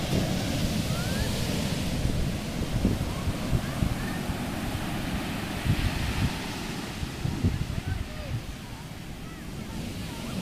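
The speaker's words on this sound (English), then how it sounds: "Oh my goodness, the waves." Large ocean waves crash and wash at Camps Bay beach in Cape Town under steady, strong wind buffeting the microphone, a continuous rumbling surf roar with faint voices in the background.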